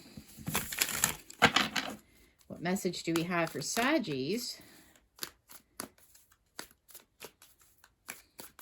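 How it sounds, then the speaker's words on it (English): Tarot cards are shuffled in quick riffles and rapid flicks, crisp and close, with a voice speaking briefly partway through before the shuffling continues in bursts. "Give it a good shuffle here for you."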